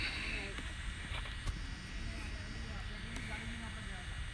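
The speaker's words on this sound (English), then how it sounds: "All right, here goes the drone again." A drone lifts off and climbs near Marblehead Lighthouse at sunset, giving a steady, even motor whir that continues throughout.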